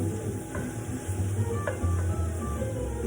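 A roux being stirred in a pan with steady sizzling as the flour and fat cook, spoon or whisk scraping in an irregular rhythm close by, and no talking.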